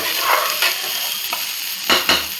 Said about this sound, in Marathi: ही आता जरासं याच्यामध्ये हा मसाला हे होईपर्यंत थोडंसं फ्राय करायचं आहे